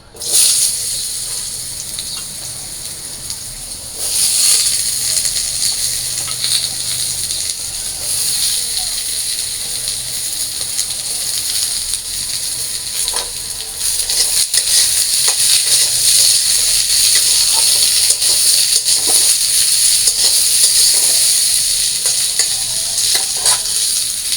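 Potatoes and vegetable stalks fry in oil in a pan, a steady close hissing sizzle that swells louder after a few seconds and again midway, with occasional stirring scrapes.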